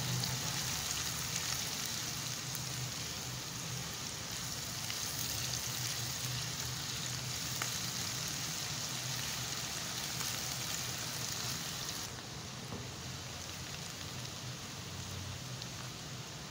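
Onions frying in a pan for a chicken and urad (mash) dal dish, giving a steady, dense crackling sizzle that stays even and close throughout, slightly softening near the end, with no talking.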